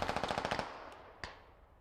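A rapid machine-gun burst fires in the Squad video game, a quick rhythmic string of sharp cracks lasting about half a second, followed by a single distant shot as the echoes fade.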